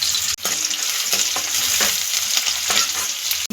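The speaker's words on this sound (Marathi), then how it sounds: "कांदा आपल्याला व्यवस्थित परतून घ्यायचा आहे।" Onions sauté with salt in a pan for a prawn masala, giving a loud, steady sizzle broken by repeated scraping stir strokes, close up with no speech, interrupted by two brief near-silent gaps.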